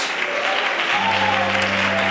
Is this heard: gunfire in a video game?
no